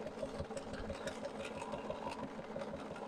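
A BERNINA sewing machine with a leather roller foot stitches leather, using a lengthened stitch and 12 weight thread. The needle runs in a fast, even, rhythmic chatter throughout, moderately quiet and close, with no talk over it.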